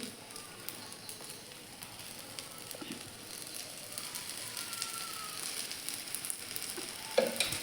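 Soft, steady sizzling of a rice and gram-flour thalipeeth flatbread frying in oil in a kadai, with occasional light clicks and scrapes from the pan.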